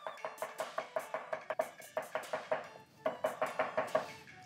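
Raw shrimp paste being chopped on a board with a steady run of sharp, close, evenly spaced knife strikes, one brief pause, then more rapid chopping, with no talking.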